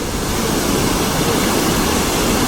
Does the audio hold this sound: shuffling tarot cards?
no